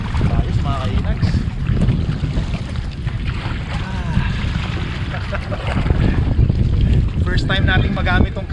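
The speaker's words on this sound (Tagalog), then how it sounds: "First time nating magamit tong kayak natin na medyo maalon yung lake na sinusukungan natin" Kayak paddling on a choppy lake in spring wind, with constant wind buffeting, water splashing and slapping against the hull, and voices speaking over it.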